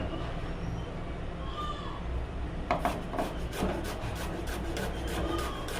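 A knife chops onion into small pieces on a board, a run of quick close taps and rasps that grows distinct midway, under a steady background hiss.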